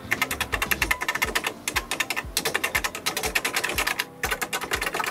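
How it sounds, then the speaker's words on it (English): Fast typing on the mechanical keyboard of a large vintage laptop produces rapid, crisp key clicks in bursts with short pauses, close and fairly loud, with no talking. "It was shocking to find a mechanical keyboard on this device."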